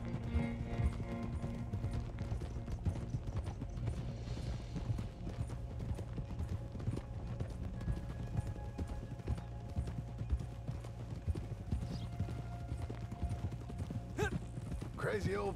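Horse hooves clip-clop steadily in Red Dead Redemption II, a soft, continuous trotting rhythm under low game ambience, with a brief higher sound near the end.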